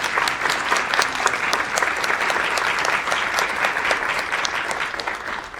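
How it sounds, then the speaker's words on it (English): An audience at a Latina/o education summit breaks into a sustained round of applause, many hands clapping at an even, lively intensity throughout with a few sharper individual claps standing out. "I wanted to take a moment to just give you a round of applause."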